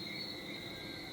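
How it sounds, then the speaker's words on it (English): Crickets chirp in a continuous high buzzing chorus on a quiet night in a tropical region, a house surrounded by vegetation, faint and steady with no voices. "you might hear the sounds of crickets and whistling frogs in the background"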